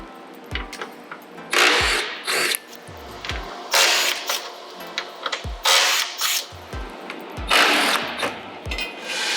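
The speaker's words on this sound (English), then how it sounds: "Using your 13 millimeter socket and impact or ratchet, go ahead and remove all 6 bolts holding on the chassis brace." An impact gun removes the 13 mm bolts from a chassis brace on a BMW G8X M3/M4, firing in several short, loud buzzing bursts separated by brief pauses and small clanks of tools.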